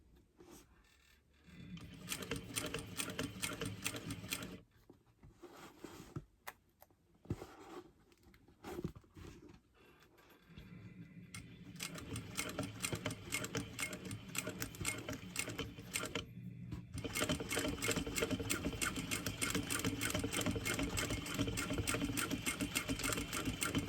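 A home sewing machine stitching a tote bag, a fast rattling needle patter in several bursts separated by brief pauses, then a longer steady run to the end, close and fairly quiet.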